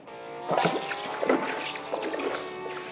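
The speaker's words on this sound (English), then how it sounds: "So to cool it down, I'll place it in some water." A hot 100 troy ounce bar of 99.99% pure 24 carat gold is lowered into water to cool, giving a close, brief hiss and bubbling sizzle with watery drips and splashes that fade over a few seconds.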